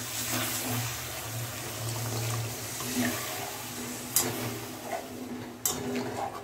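Water goes into a pan of Bengali-style rui fish rezala curry, giving a steady, close pouring splash with a couple of sharp clinks from a utensil against the pan.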